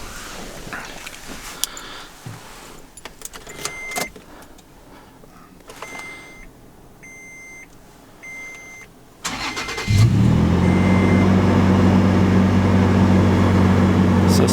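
A 2013 Toyota FJ Cruiser Trail Teams Edition with 63,000 miles starts up after several chime beeps and clicks inside the cabin. The engine catches near the end and settles into a loud, steady idle.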